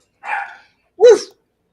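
A dog gives two sharp barks close by, the second louder, with silence between them.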